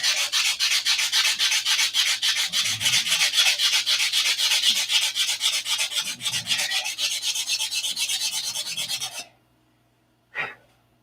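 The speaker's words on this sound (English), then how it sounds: "So you want to keep sanding until you can't feel that." Hand sanding of a surface with a steady, fast rhythm of close, rasping back-and-forth strokes runs for about nine seconds, then stops, followed by silence and one short knock.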